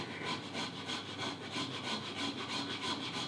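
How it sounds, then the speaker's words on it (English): A rasp working a wooden plane tote, with steady rhythmic rough scraping strokes, close and continuous, with no speech. "So get your rasp out."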